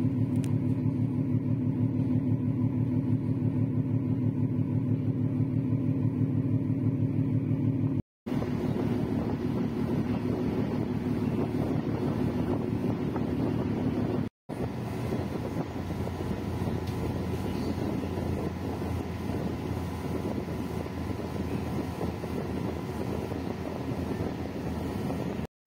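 Passenger boat pulling into Batangas pier, a steady low engine drone and rumble with wind buffeting the microphone, continuous and fairly loud throughout.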